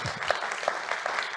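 Seminar audience in Olos applauding, a short, even round of clapping from a moderate crowd lasting just over a second.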